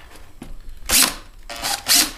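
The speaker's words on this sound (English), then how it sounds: "1/2-inch drill." A 1/2-inch electric drill boring a hole in a plastic gas can, heard as two short, loud bursts of whirring cutting noise close by, separated by a brief pause.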